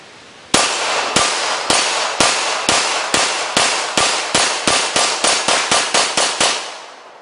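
A Glock 34 9mm competition handgun fires a rapid string of about seventeen loud, close gunshots, spaced evenly at first and then coming faster, with no voices.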